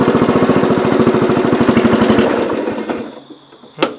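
Mower deck on a 1970 408 tractor kicks in as the PTO lever is engaged, a loud, rapid pulsing engine chug that runs steadily for about two seconds, then fades and sputters down, ending with a sharp clunk.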